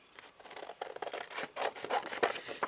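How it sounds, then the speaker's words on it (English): Scissors snip steadily through paper while cutting out a shabby chic heart from a paper craft kit, a faint series of quick, crisp cuts with no talking. "Take my scissors."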